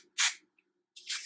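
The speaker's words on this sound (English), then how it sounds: "I'm going to use a different hair spray." Two short hiss bursts of hair spray being sprayed onto hair, close and fairly loud, separated by a brief pause.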